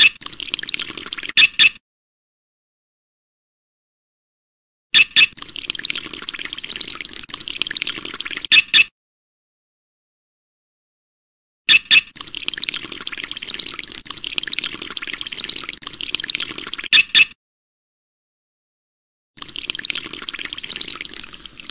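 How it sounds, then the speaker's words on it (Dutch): Water runs from a tap into a cup in a video game in several bursts of a few seconds each, a steady splashing pour broken by clean silences. "Klik dan op de kraan en de beker wordt gevuld."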